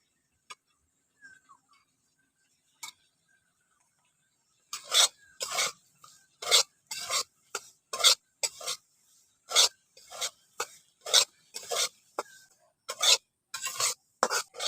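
Semolina stirred and fried in white oil in a kadai over low heat, heard as about a dozen close, rhythmic scraping strokes after a few seconds of near quiet.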